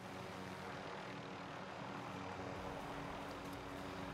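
Steady, loud aircraft engine drone from a helicopter in the Call of Duty Warzone video game on the Verdansk 1984 map, a continuous rotor-and-engine roar with no voices.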